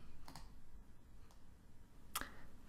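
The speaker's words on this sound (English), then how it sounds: "you can start up your camera app on your computer by just typing it into the search bar at the bottom." A few sparse, faint clicks of a computer keyboard as a search bar is typed into, quiet and isolated keystrokes with near silence between them.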